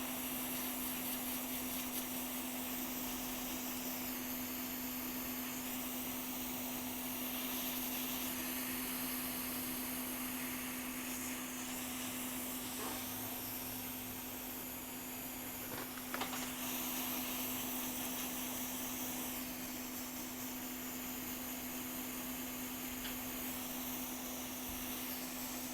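A hot air nozzle blows in a steady, continuous whoosh with a constant hum, heating a MacBook during repair, running alone without talk throughout.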